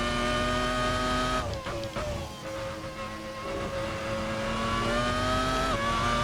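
A race car engine in the Assetto Corsa racing game holds a loud, steady high-pitched drone under heavy throttle, dips briefly as revs fall, then climbs again with a rising whine.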